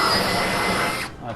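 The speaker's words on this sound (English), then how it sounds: "just drill and rivet through the bottom of the gutter, through our bracket" A brief whining power drill runs steadily for about a second, drilling through the bottom of a metal shed gutter and bracket, then cuts off abruptly, with a voice briefly overlapping.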